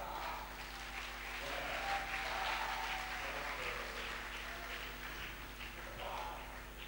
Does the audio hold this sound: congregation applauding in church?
yes